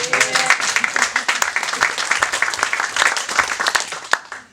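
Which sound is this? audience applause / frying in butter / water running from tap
audience applause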